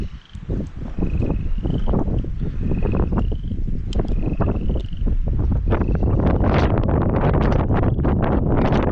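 Gusty wind buffeting the microphone outdoors, a loud continuous roar that swells and pulses in gusts across the whole stretch, with faint chirps in the background.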